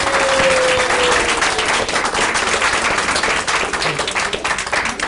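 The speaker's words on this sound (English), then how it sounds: "Let's give them a big round of applause." An audience at a community forum on police and council matters breaks into loud, sustained applause, a dense wash of clapping that continues for several seconds without talk.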